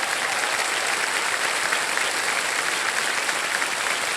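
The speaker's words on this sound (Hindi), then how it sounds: "अच्छा, ताली बजा दीजिए, क्या जाएगा।" Loud, dense applause from a large television game show studio audience, steady and sustained throughout with no voices rising above it.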